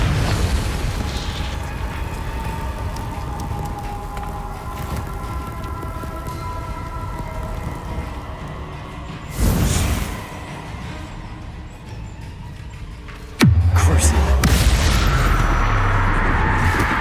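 The Confringo explosion spell going off in the video game Hogwarts Legacy makes a loud fiery burst with a whoosh, followed later by a deeper boom that rumbles on over steady ambient background.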